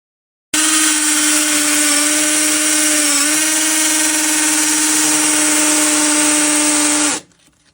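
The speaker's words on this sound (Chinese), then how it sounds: "出来没带打瓷砖的钻头，用个冲击钻头来打" An impact drill bit bores a hole into a tiled kitchen wall, giving a loud, steady whining drone held for about six and a half seconds before stopping abruptly.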